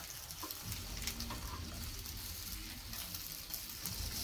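Chicken burger patties sizzle steadily in a frying pan, a constant close crackling hiss that runs throughout with no voices over it.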